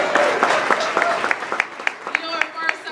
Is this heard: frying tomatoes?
no